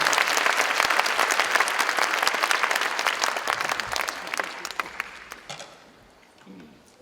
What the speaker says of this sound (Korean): 박수로 하나님께 영광 돌리시고